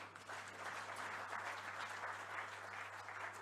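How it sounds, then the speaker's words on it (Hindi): A large audience claps at a book launch event, steady, dense applause that sounds fairly distant and quiet, lasting a few seconds with no voices over it. "और इतने बड़े संभ्रांत वर्ग अभी ताली बजाकर आनंद व्यक्त करता है।"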